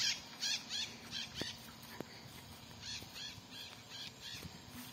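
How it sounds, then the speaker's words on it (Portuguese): Maritaca parrots squawk in the sky over a rural farm in the late afternoon, with repeated harsh calls at a middle distance and a few sharp knocks in between. "as maritacas gritando no céu"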